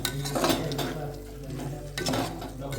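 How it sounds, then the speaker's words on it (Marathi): Oysters being stirred through masala in a pan, with soft scraping and occasional light clinks of a utensil against the metal, moderately close, in a steady continuous rhythm. "चांगले हलवून घेऊ, सगळा मसाला लागला पाहिजे."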